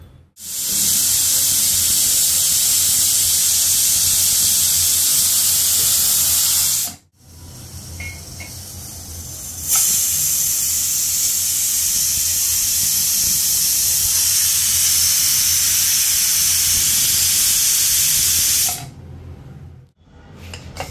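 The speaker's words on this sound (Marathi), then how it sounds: "आपल्याला कुकरच्या खालूनच गरम होणार आहे ना, आजूबाजूने काहीच नाही, म्हणून 5-6 शिट्ट्या करून घ्यायच्या." A pressure cooker used for a winter popti cook-out vents steam with a loud, continuous hissing whistle in two long bursts, broken by short pauses, heard close and alone.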